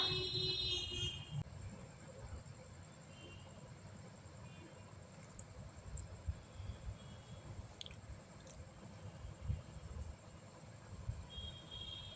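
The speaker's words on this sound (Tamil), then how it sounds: "இந்த மாதிரி தண்ணி தெளித்து பிசைஞ்சு எடுத்துக்கலாம்" Onion bonda dough for tea-shop style fritters kneaded by hand with sprinkled water, giving a steady, close, soft squishing and pressing sound that runs continuously with no talk.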